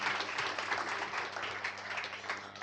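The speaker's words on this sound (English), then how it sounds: "Round of applause for our panel." A conference audience applauds a panel at a diversity lunch, a moderately distant patter of many hands clapping that stays dense and ragged, softening slightly toward the end.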